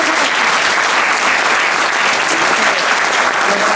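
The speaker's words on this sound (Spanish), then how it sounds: "que también pide un aplauso." Dense, steady applause from an audience honoring a choir at a club anniversary event, loud and close, sustained evenly for several seconds with no voices breaking through.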